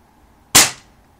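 A single loud gunshot from a freshly oiled gun, fired close by: a sharp crack that rings out and fades quickly, with no talking.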